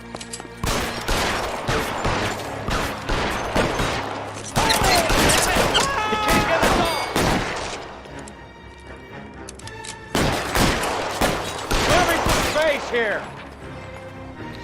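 Gunfire in the video game L.A. Noire: loud, dense bursts of rapid shots in clustered volleys with brief lulls between them. A player speaks a single word during the shooting.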